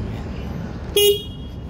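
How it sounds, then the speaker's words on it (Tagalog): Horn of a Rusi Force 150 motorcycle, mounted low at the front, gives one short, loud toot lasting about a fifth of a second against a quiet background. "Busina sa ilalim."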